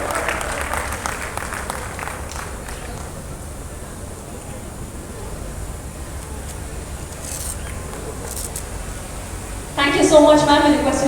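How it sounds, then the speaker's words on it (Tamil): Applause from the audience at a trailer launch event, a steady mass of clapping filling the room at moderate level, with a voice and wind-like noise at the end. "மீண்டும் உங்களுக்கு கைத்தட்டல் கொடுத்தலாம்."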